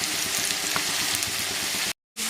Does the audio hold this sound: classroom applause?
no